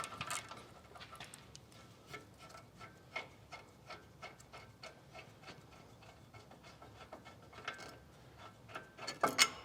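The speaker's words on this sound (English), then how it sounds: "let's go ahead and finish pulling these bolts out of the back" Bolts with threadlocker being worked loose and pulled from the rear disc brake of a 2016 Chevrolet Suburban, giving a string of short metallic ticks and scraping clicks at close range, uneven in rhythm, with a sharper rattle near the end.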